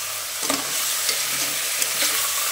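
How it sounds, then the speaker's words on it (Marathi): Chicken curry seasoned with turmeric is stirred in a hot pan, with a soft steady sizzle and a few scraping strokes of the spoon over roughly two seconds, up close. "आता आपण याला मिक्स करून घेऊया।"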